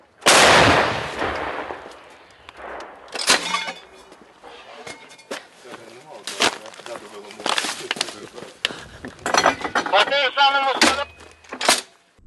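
Several sharp, loud cannon artillery blasts ring out one after another near Pokrovsk in Donbas, each with a booming crack and ringing tail, while people talk excitedly between them.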